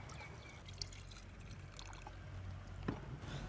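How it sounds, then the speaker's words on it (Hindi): Water is poured from a vessel into a pan of fish while cooking in a north-east Indian kitchen, a soft steady trickle over low background rumble, with a brief splash near the end and no talk. "पानी डाल देते हैं इसमें"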